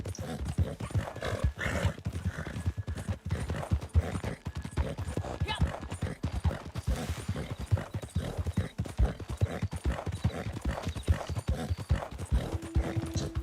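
Horse hooves galloping in the video game Red Dead Online, a steady rapid clip-clop running the whole time with occasional whinnies, alongside faint talk.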